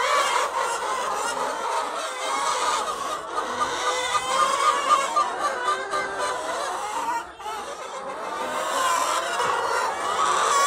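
Laying hens in a crowded egg-production house cluck and squawk continuously, a dense, loud chorus of fowl with overlapping calls throughout.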